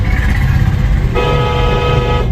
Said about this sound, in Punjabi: ਲੰਬਾ ਜਿਹਾ ਹਾਰਨ ਮਾਰੋ